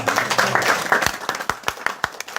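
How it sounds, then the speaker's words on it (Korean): Scattered hand claps from a church seminar audience, several sharp separate claps in a loose, uneven rhythm over a faint background murmur, fairly close and moderately loud. "박수 합시다"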